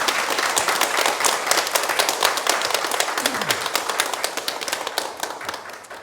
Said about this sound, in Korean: 웰컴 박수 한번 함께.